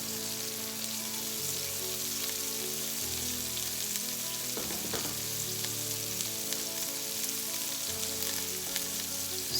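Leftover cooked meat and onions fry in a pan with a steady, soft sizzle, and a few stirring scrapes come through near the middle.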